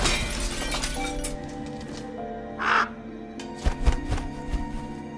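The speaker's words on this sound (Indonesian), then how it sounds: "dari dalam tubuh Gilpin tiba-tiba keluar kawanan burung gagak" A flock of crows bursting out in a Wednesday season 2 film scene: harsh caws and flapping over a dense dramatic soundtrack, with a bright shattering burst in the middle and a few more loud hits near the end.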